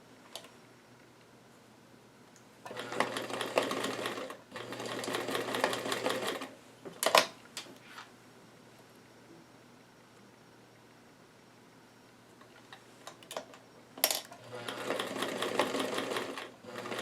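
A sewing machine stitching a doll dress in short bursts of rapid whirring and ticking, separated by quiet pauses and a few clicks, close and fairly soft.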